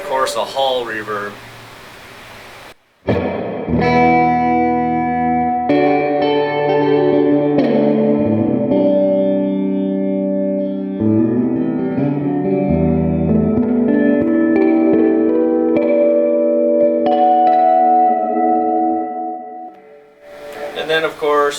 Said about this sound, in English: A hall reverb.